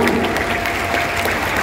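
Applause from a graduation ceremony audience at UIN Sunan Ampel Surabaya's 104th commencement, a dense, steady wash of many hands clapping at close range, continuous throughout with no voices standing out.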